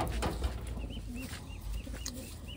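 Taiwan pigeons coo repeatedly, with soft rolling calls rising and falling in quick succession over a steady background hiss, fairly close and moderately loud.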